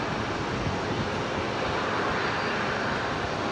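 An airliner's jet engines roar at Brisbane Airport. The sound is a steady, loud, broadband rumble and whoosh that fills the whole clip with no voices.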